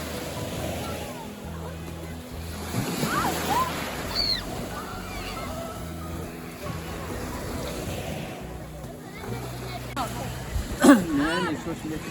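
Light sea waves washing onto Stegna beach on the Polish Baltic coast form a steady surf wash with some wind. Voices talk over it throughout.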